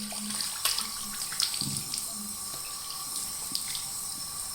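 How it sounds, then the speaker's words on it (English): Cold water running from a tap into a sink to rinse a RazoRock Hawk v2 razor, a steady close splashing gush with occasional brief clinks and spatters. "Let's get the rinse on. Okay, some cold water."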